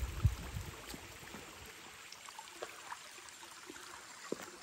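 Water from a stream flows past on a rural farm property in the hills of Guaramiranga, a soft, steady trickle and gurgle heard at a distance against faint background noise.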